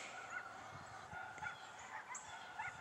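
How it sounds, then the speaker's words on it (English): A chicken squawks faintly inside a backyard coop, several short distant calls scattered over a quiet background. "I hear one of them squawking in there"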